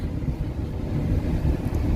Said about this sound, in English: And the wind really got up